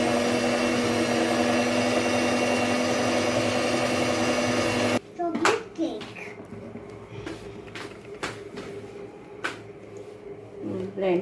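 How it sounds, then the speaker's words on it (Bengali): An electric blender mixes homemade chocolate cake batter with a loud, steady motor whine, then cuts off abruptly midway. Scattered knocks, clicks and handling sounds follow in a quieter room. "দিয়ে আরও অনেকক্ষণ ব্লেন্ড করবো, সবগুলো মিশ্রণ যাতে একসাথে ভালো মতো মিশে যায়।"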